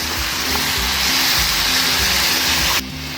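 Tomatoes stirred into chicken liver frying in a pan give a loud, continuous close-up sizzle with soft rhythmic scraping strokes, then the hiss suddenly drops away near the end.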